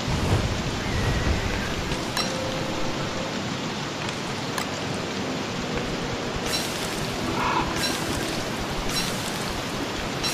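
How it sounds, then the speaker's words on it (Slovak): A thunderstorm with steady heavy rain hissing on surfaces and rolling thunder rumbling underneath, plus a few sharp cracks, continuous and fairly close throughout. "Búrka."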